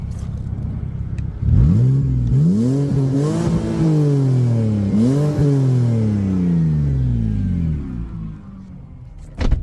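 A 2006 BMW 325xi with a manual gearbox sits while its engine is blipped, the revs climbing and falling in several rising sweeps, loud and close, then settling back toward idle.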